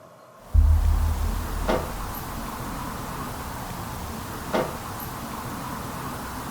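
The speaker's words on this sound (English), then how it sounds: "The knocking sound over here to my left." Two sharp knocks sound a few seconds apart inside the Greene County Alms House during a paranormal investigation, fairly faint and distant against a low hum and background noise.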